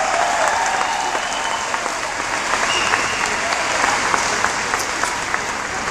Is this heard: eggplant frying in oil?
no